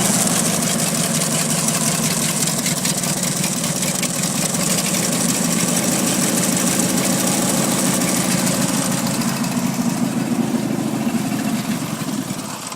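An opposed-twin Briggs & Stratton engine with fresh head gaskets and new plugs runs steadily throughout, a loud, close, continuous low throbbing drone with a slight knocking pulse, alone with no talk.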